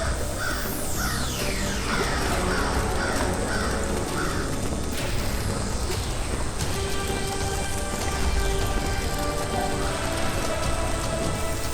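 A crow caws repeatedly in short harsh calls over a heavy, constant downpour of rain, with sweeping whooshing effects layered throughout and no voices.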